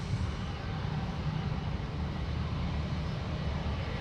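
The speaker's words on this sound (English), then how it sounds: "the Jetstar Jaffa now coming up taxiway Charlie, nice and close in front of us" Jetstar jet in orange livery taxiing close by at Sydney Airport, a steady, loud engine rumble and whine holding constant with no talk.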